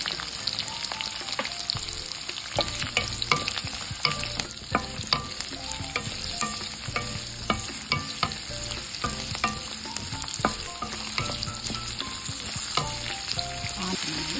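Continuous sizzling as chopped onion fries with green and red chillies in hot oil for an ash gourd curry, with a steady crackle and occasional spoon stirs scraping the pan, no voices.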